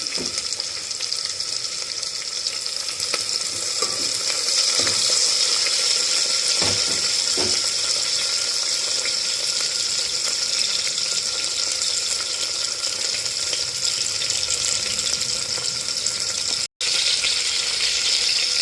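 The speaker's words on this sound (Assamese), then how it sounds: "পিঁয়াজখিনি মই দি দিলোঁ, কাটি থোৱা পিঁয়াজখিনি দি দিলোঁ।" Chopped onions and bay leaves fry in hot oil in a pressure cooker for pulao, giving a loud, steady, close sizzle with faint stirring scrapes and no talk.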